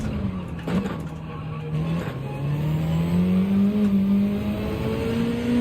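A Mitsubishi race car in Gran Turismo accelerates with a steady, rising engine drone that climbs through the gears, with a brief tire or gear chirp early on and no talk over it.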